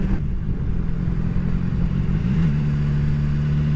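Engine of a BMW XR motorcycle droning steadily under way, with a rising pitch near the end as it accelerates, close and loud with wind rumble.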